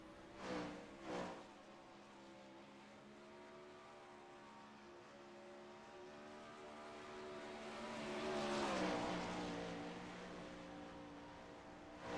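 Dirt race cars circle the track during a practice session, their engines droning steadily in the distance and swelling loudly as a car passes close before fading away again.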